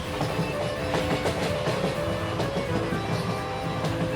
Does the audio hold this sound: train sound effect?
yes